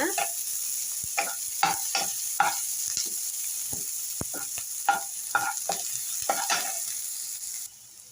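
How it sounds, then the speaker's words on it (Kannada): Onions and dried red chillies frying in a pan, a steady sizzle throughout with a dozen or so sharp scraping stirs of a spoon, close and fairly loud, no talking. "ಇವಾಗ ಈರುಳ್ಳಿ ಮತ್ತು ಒಣಮೆಣ್ಸಿನ್ಕಾಯಿ ಹಾಕ್ಕೊಳ್ತಾ ಇದ್ದೀನಿ"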